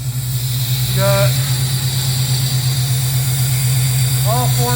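A 1969 Pontiac Firebird engine fitted with Holley Sniper fuel injection idles smoothly and steadily up close, a low even rumble with a faint hiss, while someone talks briefly over it.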